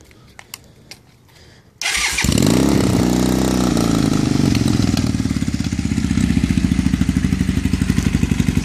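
A Honda Rebel CMX 450 bobber motorcycle with cut-down exhaust pipes is started after a short crank, catching loudly and settling into a steady, rumbling idle close by, with no talk over it.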